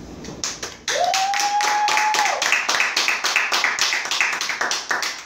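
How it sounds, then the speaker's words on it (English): Dense clapping from a crowd, steady and continuous for several seconds after a brief tonal swell, with no talking over it. "why don't we give Robert Cailliau a great big applause"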